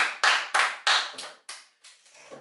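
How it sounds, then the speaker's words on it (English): Hand clapping from a small group after an online prize draw, a few quick bursts that fade out over about two seconds, close and loud with no talk over it. "Should we give them a clap and a cheer?"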